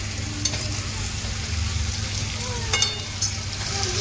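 Vegetable curry sizzles and fries steadily in a pan, with a constant crackling hiss and a few light clinks of stirring, under a low background hum.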